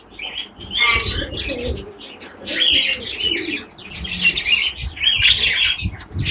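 A pair of pigeons, barbet-type fancy birds, call with repeated chirps and coos in bursts, fairly close and clear, with a faint background hum.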